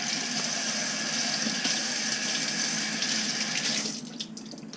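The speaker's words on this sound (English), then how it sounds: "I'm just going to rinse it first because you don't never know" Cilantro rinsed under a running kitchen tap: a steady, close, hissing stream of water splashing into a sink, continuous and even, thinning out slightly near the end.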